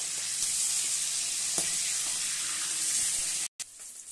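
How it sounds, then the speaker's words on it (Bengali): Pieces of aar fish sizzle and crackle in hot oil in a pan with a steady, bright hiss. A few sharper spits rise above the sizzle, and the sound breaks off briefly near the end. "এদিকে মাছ ভাজা হচ্ছে।"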